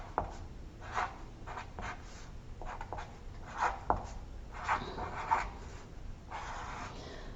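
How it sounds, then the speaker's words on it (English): Pen or pencil scratching across paper while an addition problem is written out, a run of short strokes with brief pauses, close and quiet, with no talking. "I can write that out"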